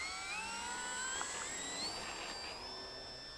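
A Durafly Spitfire 1.1 meter RC plane in flight gives off a steady, high-pitched electric motor whine that drifts and bends in pitch as it passes, continuous and fairly distant, with no talking.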